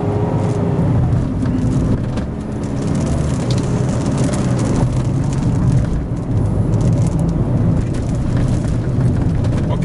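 Car engine pulling hard during a test drive of a Perodua Myvi or Ativa, a steady loud cabin drone with road and wind noise throughout, no clear rise in pitch but continuous power under acceleration.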